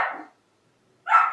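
A dog barks twice, short sharp yelps separated by about a second of silence, moderately close and clear.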